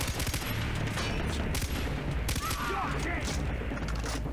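Gunfire from the video game Far Cry 3, a steady dense barrage of rapid shots layered with booms and mechanical clatter, loud throughout with speech faintly present underneath.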